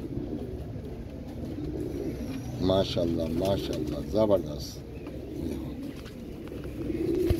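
Pigeons in a coop give soft low coos, a few bursts running through the middle under a man's speech, with a steady background hum.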